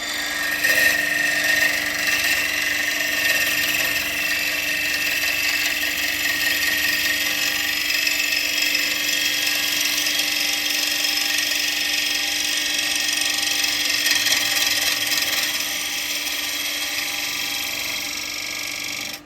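An ash wood blank spinning on a lathe while a spindle gouge cuts it, producing a loud, continuous whirring hum with a steady tonal whine and a faint scraping edge that holds evenly from start to finish, no talking.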